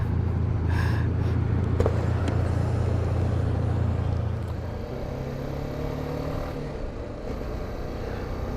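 Road traffic approaching Kigali, Rwanda, heard from a moving vehicle: a loud steady engine and road rumble that drops in level partway through, with passing vehicles and no talking.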